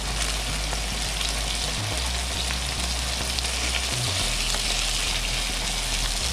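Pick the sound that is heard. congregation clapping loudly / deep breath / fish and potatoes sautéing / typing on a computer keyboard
fish and potatoes sautéing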